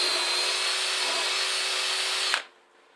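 Power drill drilling a pocket hole in wood at about a 12-degree angle, a steady loud whine held for over two seconds before cutting off abruptly, up close.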